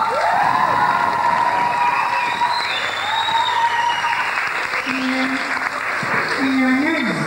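A concert crowd in Poland gives loud, sustained applause mixed with cheers and whoops, dense and close throughout, as a voice speaks over the clapping.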